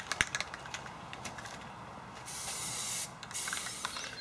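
Quiet hissing bursts of spray paint from an aerosol can, a few short sprays followed by longer steady ones, with small clicks and taps between.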